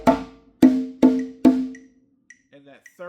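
A hand drum plays a percussion call to start a rhythm: four ringing open tones in a quick, evenly spaced sequence, close and clear, followed by a few faint higher taps.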